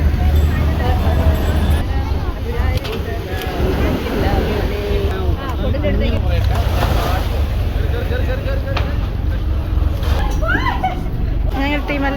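Boat arriving at the water's edge in Goa, a steady low engine drone beneath lively chatter and excited voices from a group boarding nearby.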